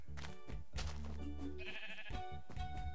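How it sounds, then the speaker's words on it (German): Sheep in Minecraft bleating in several short, repeated game calls, loud and close, with no talking over them. "Mäh, Schafe, mäh."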